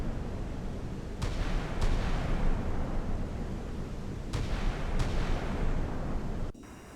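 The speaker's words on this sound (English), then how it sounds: "And the flak once again firing." Naval flak guns aboard a warship in the Sea Power naval combat game fire repeatedly, heavy booming reports in two pairs over a continuous loud rumble of battle noise, cutting off abruptly at the end.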